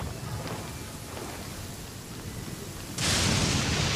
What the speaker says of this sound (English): Did you know that the sound of thunder is the prelude to new life?